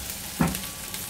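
Capsicum (bell pepper) pieces land in a hot pan for a pizza samosa filling, giving one short burst of sizzling that fades into a soft, steady fry.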